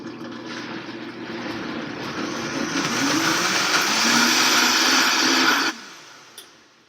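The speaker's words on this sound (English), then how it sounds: "We're going to blend the mixture" A blender whirs steadily for about six seconds, blending a creamy chia pudding base seasoned with pink Himalayan salt. The motor rises slightly in pitch and loudness, then cuts off and winds down, followed by a faint clunk.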